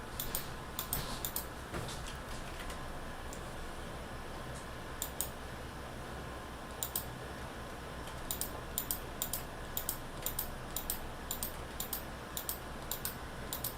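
Computer mouse clicking in short, irregular clusters of crisp clicks over a quiet room hum, close and fairly soft.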